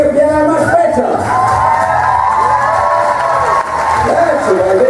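Hypnosis show audience cheering, whooping and shouting loudly and continuously, a dense crowd roar close by with excited voices throughout.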